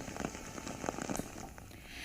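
Monsoon rain pours steadily onto flooded Mumbai streets, a dense, continuous hiss with scattered crackling splashes throughout, fairly loud and with no voices.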